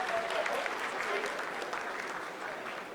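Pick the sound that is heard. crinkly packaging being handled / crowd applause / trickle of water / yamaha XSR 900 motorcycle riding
crowd applause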